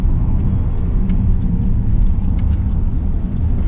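A BYD Tan, a seven-seat all-electric SUV, accelerates hard in Sport mode, giving a loud, steady low rumble of road and tire noise with a faint high whine, heard up close and without talk.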